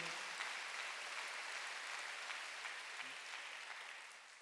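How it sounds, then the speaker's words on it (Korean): A church congregation applauds during a Wednesday worship service, a steady, fairly soft wash of many hands clapping together that slowly fades toward the end, with no talking over it. "박수."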